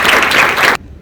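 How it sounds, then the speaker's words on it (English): An audience at a diversity, equity and inclusion speech bursts into applause to welcome the speaker, a dense, steady clapping that fills most of the moment and then cuts off abruptly into near silence. "Please give a round of applause in welcoming Kristina Williams."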